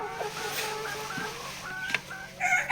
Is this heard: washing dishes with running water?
no